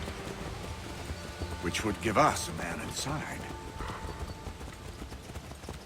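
Horse hooves clip-clopping at a steady walking rhythm in the video game Assassin's Creed 3, running continuously under in-game dialogue from a voice.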